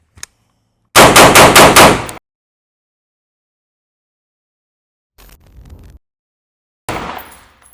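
A rifle loaded with Mark 262 ammunition fires a fast, loud burst of about five shots during a flash test, followed later by two more separate, fainter reports.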